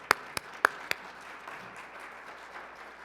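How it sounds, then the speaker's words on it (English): A few separate hand claps, one person or a small group, sound at a conference honoring a hall of fame inductee, followed by faint room noise without further clapping. "So I'm going to give you a clap for that one."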